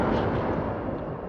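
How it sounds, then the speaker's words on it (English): Precision airstrike explosions in a video game, a continuous dense roar of heavy blasts and rumbling debris that fills the whole moment, loud and close with no talk over it. "friendly precision airstrike inbound"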